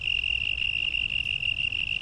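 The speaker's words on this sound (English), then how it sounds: "it's just crickets" Crickets chirp in a steady, close, high trill that pulses evenly throughout over a soft low background hum, with no voices.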